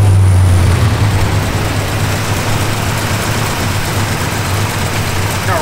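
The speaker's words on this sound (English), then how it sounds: "Car runs just as sweet as can be." A 1964 Pontiac GTO convertible with no big exhaust cans idles smoothly, its steady low rumble holding even and close for several seconds, with no voices.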